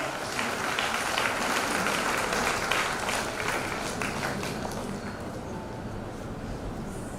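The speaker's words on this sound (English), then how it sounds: "Please do not stop your applause, should continue." Audience applause at a girls' high school annual day function, a dense, sustained wash of clapping that holds steady and eases slightly toward the end.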